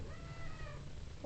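A house cat gives a single drawn-out meow, close and fairly quiet, over a steady low room hum with no talking.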